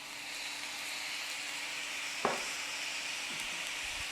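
Restaurant-style Chinese mixed fried rice sizzles steadily in a hot pan after soy sauce is added, a continuous close hiss broken by a single clank of a utensil midway.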